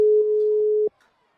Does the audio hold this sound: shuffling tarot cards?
no